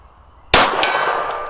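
A .380 round from a Glock 25 strikes a big silver steel gong target at 50 yards: one sharp metallic clang that rings on and slowly fades, with no voices.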